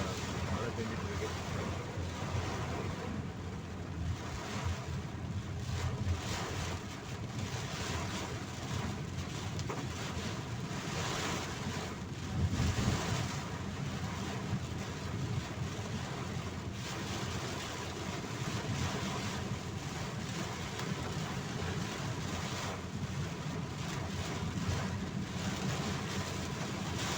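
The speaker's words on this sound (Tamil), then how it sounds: "இங்கே குன்றத்தூர் இதெல்லாம் நல்லா மழை பெஞ்சிட்டு இருக்கு" A storm brings heavy rain and wind to Kundrathur, near Chennai. A constant roaring rush of wind and rain, buffeting the microphone, fills the whole stretch, with a voice faintly talking beneath it.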